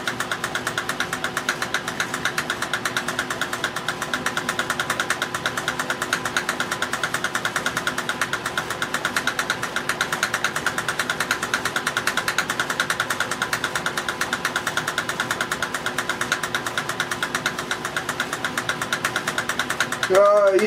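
A Van de Graaff generator runs with a continuous motor hum and a fast, even pulsing flutter, holding steady at moderate loudness for the whole stretch.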